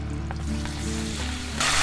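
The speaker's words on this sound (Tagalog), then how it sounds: "At pwede na rin natin i-sear yung ating spinach" Spinach searing in a pan with leftover butter and oyster sauce, a steady close sizzle with light stirring, a louder hiss rising at the end, no voices.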